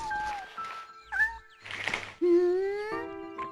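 A cat meows several times within the Shenmue video game, a string of clear, close, drawn-out mews with rising and falling pitch, separated by short pauses, with no talking over them.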